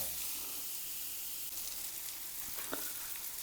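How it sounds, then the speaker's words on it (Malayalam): Sliced onions sautéing with salt in a pan for Kerala-style chicken curry, a steady close sizzle and hiss running throughout with faint stirring clicks near the end. "ഈ ഉപ്പ് ചേർത്തതിന് ശേഷം നന്നായി ഇതൊരു ഗോൾഡൻ ബ്രൗൺ കളർ ആവുന്നവരെ ഒന്ന് വഴറ്റിയെടുക്കാം."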